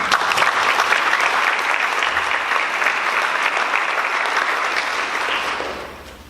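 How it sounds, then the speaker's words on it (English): Applause from the audience at a school debate, a loud, dense, sustained ovation from many hands that tapers off near the end. "Can I get another round of applause for these amazing people?"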